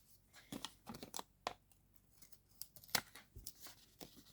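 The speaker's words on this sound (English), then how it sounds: "now what you can do is you can actually color it. And so we'll just carefully peel this off" Parchment vellum layer being carefully peeled off a card, giving scattered soft crinkles and sharp tearing ticks at irregular moments, close and fairly quiet with no talking.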